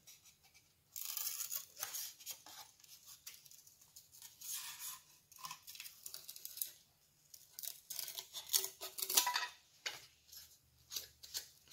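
Scissors snip through material for a model presentation cart in quiet, close, irregular cuts, some short and some longer, with faint handling rustle between them.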